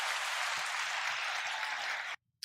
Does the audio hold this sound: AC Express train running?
no